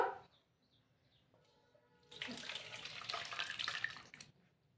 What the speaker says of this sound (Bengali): একটা সাদা কাপড় দিয়ে দেবো। ছানাটা ঢেলে দেবো।